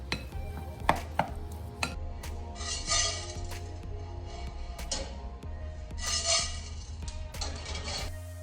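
A spoon stirs coconut cream into sticky rice for mango sticky rice, making close, repeated scraping and soft tapping against a bowl in an uneven rhythm.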